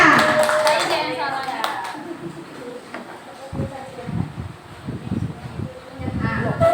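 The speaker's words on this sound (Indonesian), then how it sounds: "Tepuk tangan untuk kita semuanya." Schoolteachers at an elementary school training session clap briefly and loudly, then the clapping dies into scattered talk and shuffling, with a short clap and voices returning at the end.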